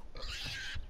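A pig oinks in the survival video game 7 Days to Die: a single short, rough grunt, fairly quiet and heard on its own.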